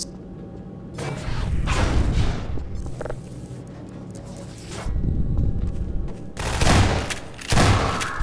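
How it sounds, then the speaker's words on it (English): Shotgun blasts in the game Half-Life 2 boom out in loud, wide bursts separated by short pauses, with quieter shuffling between shots. "If I shoot dude point blank with a shotgun in the head, he should probably die."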